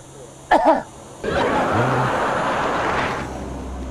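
A person coughs in two sharp bursts at close range, followed by a longer stretch of breathy, rasping noise, in what appears to be a hidden-camera prank setting.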